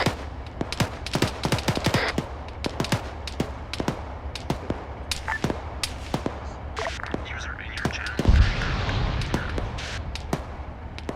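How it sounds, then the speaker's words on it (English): Suppressive gunfire during a contested military beach landing exercise, with rapid, irregular cracks of rifle and machine-gun fire at varying distances, sharp and loud over constant rumbling background noise, with faint voices now and then. "engage with suppressive fire on the town"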